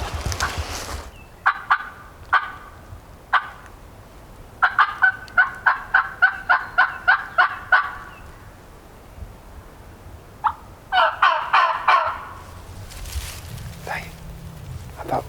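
A wild turkey gobbling in repeated loud bursts during a spring hunt on Georgia public land, some in quick rattling runs, at moderate distance, with occasional quiet talk between.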